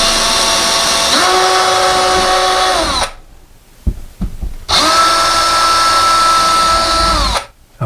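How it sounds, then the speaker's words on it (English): A power drill bores 3/16 holes for molly anchors in two long, loud, whining runs that speed up and slow down, separated by a pause with handling clicks. "we're going to drill those out to the 3/16"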